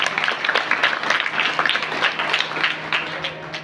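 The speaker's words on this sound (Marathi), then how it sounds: "जोरदार टाळ्या वाजवा." Sustained audience applause at a Marathi kirtan performance, dense overlapping claps holding steady and loud throughout without a break.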